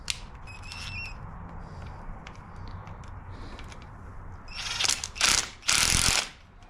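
Torx T27 screws being backed out of the brake master cylinder cover on a 2023 Harley-Davidson Street Glide's handlebar, giving quiet ratcheting clicks followed by a few louder, brief bursts of metallic rasping near the end.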